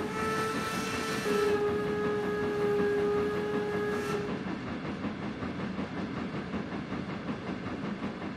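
Steam whistle of a BR50 locomotive in the train simulator Trainz 22, a sustained tonal blast of about three seconds over rolling wagon noise and rail clatter, then the whistle cuts off and only the running train remains.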